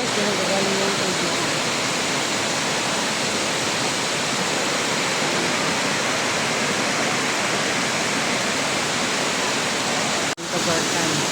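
Water rushes steadily and loudly, a dense unbroken hiss like a stream or small waterfall at a mountain spot in Ilocos, filling the whole stretch with a brief dip near the end.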